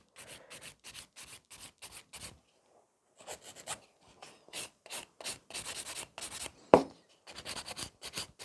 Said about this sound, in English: I'm just smoothing the whole surface of the nail